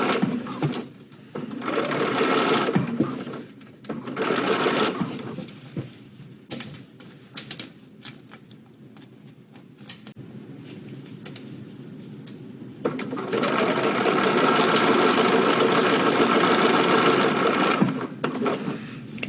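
A sewing machine stitches a seam on a Butterick 6994 summer dress, running close and loud in rapid whirring bursts with pauses between, then one long steady run near the end.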